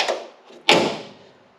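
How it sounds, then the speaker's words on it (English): The rear door of a restored Peugeot P4 military off-roader is shut with a single solid, close thud and a brief rattle that fades out, following a lighter handling sound. "So that's the back door, and this shuts absolutely perfectly."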